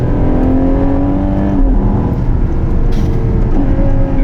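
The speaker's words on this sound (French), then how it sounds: "Ces rétrogradages, je m'en lasserai jamais, c'est phénoménal." Ferrari Purosangue V12 engine revving hard through downshifts on small country roads, a loud continuous snarl with rising and falling pitch sweeps and blips, close and steady with no talk.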